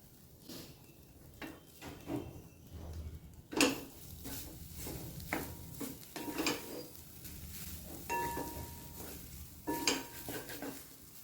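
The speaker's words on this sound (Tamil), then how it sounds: "இப்போ இதிலேயே போட்டு கிளறிடலாம்" Cooked rice is stirred into a gooseberry mixture in a pan, a ladle scraping and clinking against the metal in irregular knocks with a few sharper taps, close and fairly quiet with no talk.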